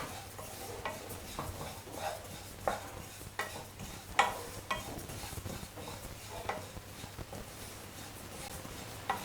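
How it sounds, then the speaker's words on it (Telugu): Mint chutney ingredients dry-roast in a pan without oil, giving a soft, steady crackle under repeated scraping taps of a spatula stirring at an uneven rhythm. The sound is close and fairly quiet, with no voices. "అసలు నూనె లేకుండా వేయించండి"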